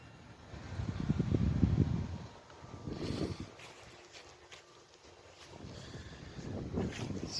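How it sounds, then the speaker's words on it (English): Gusty wind buffets the microphone in low rumbling surges that rise and fall, strongest early on, easing off, then building again near the end. "It's windy"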